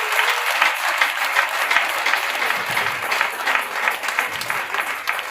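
A church congregation at a prayer service applauds for Jesus Christ, a dense, steady wash of clapping from many hands that carries on without a break, with faint voices mixed in.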